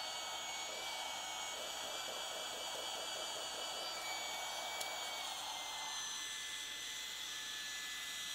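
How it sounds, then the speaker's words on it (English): A mini desk vacuum runs continuously with a steady, high-pitched whirring hum, close and even throughout, with a brief shift in tone partway through and no talking. "Mini vacuum, desk vacuum."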